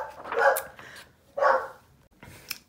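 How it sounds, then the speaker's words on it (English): A dog barks twice indoors, each a loud, close bark about a second apart, with a fainter sound trailing at the end and no talk. "Sorry, another doggy interruption."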